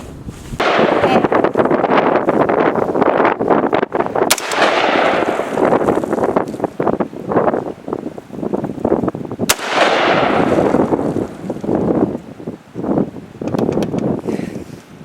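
A Glock 19 pistol fires at a target outdoors, drawn from a 5.11 MOAB 6 pack, with two sharp reports several seconds apart standing out over steady, loud wind noise on the microphone.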